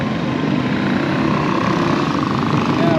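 A Tesla-branded tour helicopter in flight over a city, giving a steady, loud rotor and engine roar that fills the entire stretch without a break.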